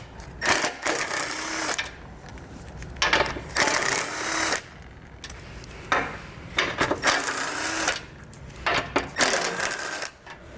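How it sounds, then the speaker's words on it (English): 15mm bumper beam bolts come out of a 2022 Buick Encore GX: several bursts of rapid ratcheting rattle from a power tool, separated by short quiet pauses, close and fairly loud. "we're gonna have to pull the bolts out of it"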